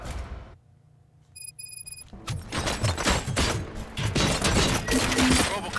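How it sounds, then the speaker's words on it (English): Gunfire in RoboCop: Rogue City erupts after a quiet moment with some electronic tones, becoming a dense, sustained barrage of loud shots and impacts. "Gunshots?"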